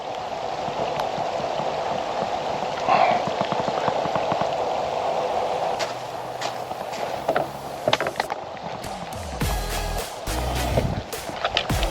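Rain falls beside a summer carp-fishing spot, a steady hiss of drops with some patter, and a few louder knocks and rustles near the end.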